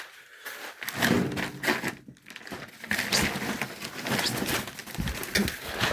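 Birds coo softly and repeatedly, close by, mixed with occasional light thunks and shuffling noises.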